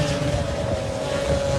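A racing stock scooter at Pembrey drones past with a steady buzzing exhaust note, a constant mid-pitched engine hum mixed with wind rumble and heard from a moderate distance.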